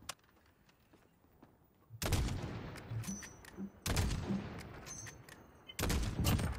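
Heavy gunfire in the video game Call of Duty Modern Warfare 2019 multiplayer: three loud, booming bursts of rapid shots about two seconds apart, close and dense, with faint quiet background between them and no talk.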